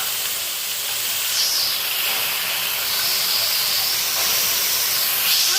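Bombay duck (loitta) fish pieces hissing in a hot pan with spices, a loud, dense, steady hiss of frying that holds close and unbroken, with no talking.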